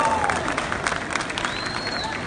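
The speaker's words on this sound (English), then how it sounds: "Do we have an applause? Woo! Louder, louder." An audience at a wrestling show claps and cheers. The dense, crackling applause sits at a moderate distance with scattered whoops, and a voice is heard over it.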